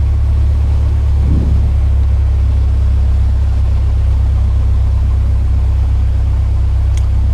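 Piper Cherokee 180 engine in a flight simulator idling at about 1000 RPM, a steady, loud low drone with constant rumble throughout and no talking.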